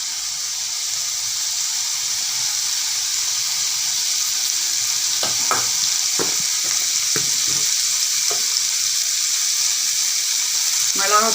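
Spices sautéing in a pan for a spicy paneer gravy, a steady broad sizzle running throughout with a few sharp stirring clinks in the second half.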